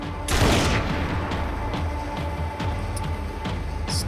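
A loud burst of gunfire opens a Max Payne 3 firefight, followed by repeated shots and booms scattered across the rest, close and sharp over low rumble.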